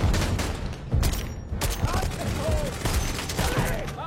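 Dense volleys of gunfire crackle through a smoky battle scene in a film, the rapid shots overlapping into a loud, continuous fusillade with faint voices underneath.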